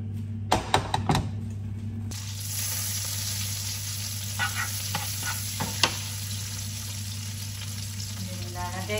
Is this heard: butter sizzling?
yes